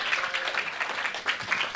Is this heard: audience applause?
yes